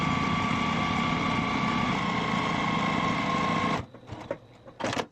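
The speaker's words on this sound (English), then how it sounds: "We're going to stitch these together using a 1/4 inch seam" A sewing machine runs at a steady whirring hum while stitching fabric strips together with a 1/4 inch seam for quilt-as-you-go bunting, then stops and gives a few short bursts of stitching.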